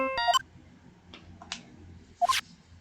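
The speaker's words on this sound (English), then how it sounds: "And what is with this stupid sounding ringtone?" A cell phone ringtone from Phoenix Wright: Justice For All plays as short, bright electronic chirps and beeps in quick bursts. Clicks and a final burst of tones follow over a quiet background.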